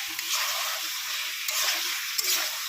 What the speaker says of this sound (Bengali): ঝিঙে দিয়ে ভালো করে নাড়াচাড়া করে মশলা